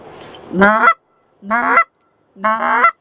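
A goose call is blown to imitate geese, giving three loud, close honks in a regular rhythm with short silences between them.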